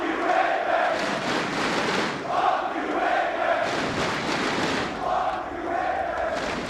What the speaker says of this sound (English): And the crowd have adapted a new favorite chant